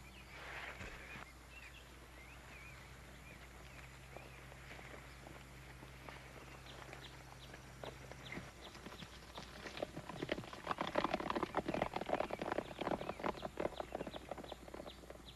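Horses' hooves clip-clop as riders leave on horseback, quiet at first and then louder and busier toward the end, a patter of overlapping hoofbeats under faint background noise.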